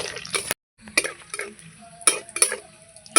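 Whole garam masala spices sizzle and fry in hot oil as a tempering, with short bursts of crackle and stirring clatter separated by brief pauses, close and fairly quiet.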